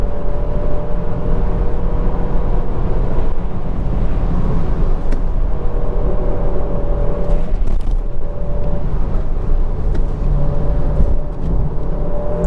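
An Alfa Romeo Giulia Q4 Competizione rolls over a rough, broken road with soft suspension, a loud steady rumble of engine and tyre noise with occasional bumps and clicks, heard from inside the cabin.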